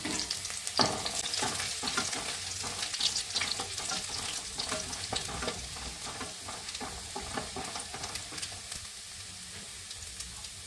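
Chopped ginger and sliced green chilies sizzle in a pan, a dense continuous crackle with stirring scrapes running throughout, close and fairly loud.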